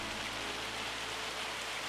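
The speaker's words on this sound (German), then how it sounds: "Sag mal, das ist doch Hagel" Hail patters steadily on the surroundings in Farming Simulator 25, a faint, even wash of tiny impacts that runs unbroken and alone, with no voices.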